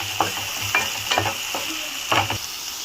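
A spatula stirs tomato, garlic, carrot and curry leaves in a hot pan for masala pasta, giving several brisk scraping strokes over a steady sizzling hiss, close and clear, without voices.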